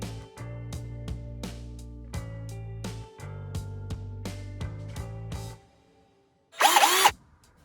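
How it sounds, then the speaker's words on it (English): An electric drill with a small bit bores tiny magnet holes into a small shell for a Mario Kart diorama, running in several steady whirring bursts separated by short pauses, followed by a brief harsher burst at the end. "I've took my drill with a drill bit and a little marker on the depth of one of those teeny tiny little magnets"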